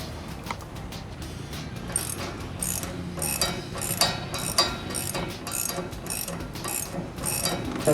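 A hand ratchet snugs down nuts on the knife bolts of a Bandit disc-style wood chipper, clicking quickly and steadily throughout, up close, with small pauses between strokes.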